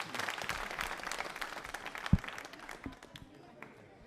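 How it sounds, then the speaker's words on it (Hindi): Brief, fairly faint audience applause at a Hindi quiz show about literacy: scattered clapping for a few seconds that thins out, with a sharp knock partway through. "तालियां बजाइए आप दोनों के लिए।"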